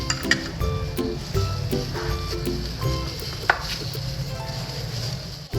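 A bowl of dates, dry fruits and three tablespoons of honey being stirred and mashed together with a spoon, giving sticky squishing sounds and repeated light clinks against the bowl, close up and steady, with no talking.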